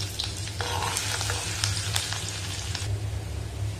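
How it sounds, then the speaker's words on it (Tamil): Small shallots frying in oil until reddish, a continuous close sizzle and crackle with light stirring scrapes, steady and fairly loud with no talking. "வெங்காயம் வந்து கொஞ்சம் நல்லா சிவக்கிற அளவுக்கு வதக்கணும்"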